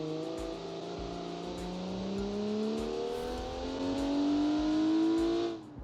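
A 1987 hot hatchback revs hard on a test track, its engine note climbing steadily through the gear at close range, loud and continuous before cutting off abruptly at the end.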